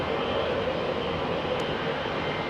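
A distant airliner at London Heathrow Airport, its steady broadband engine roar holding level throughout with no talk over it.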